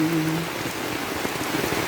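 Heavy rain beats hard on an umbrella held overhead, a loud, close, continuous patter with individual drops ticking through the steady roar; a faint tonal hum sits underneath at the start.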